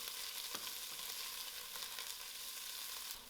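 Ginger, garlic and curry leaf sizzling in hot oil in a pan for a spicy dhal, a steady bright frying hiss with a few soft stirring knocks, close and alone.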